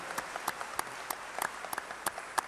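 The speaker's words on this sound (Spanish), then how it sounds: "Un fuertísimo aplauso para nosotros mismos." Audience applause at a world congress on family and communication, scattered individual claps forming a thin, moderately distant ovation that stays steady for a few seconds.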